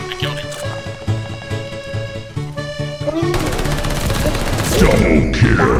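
Rapid automatic gunfire in Valorant, with bursts of shots that rise into a dense, loud fusillade, mixed with game sound effects and heavier impacts toward the end.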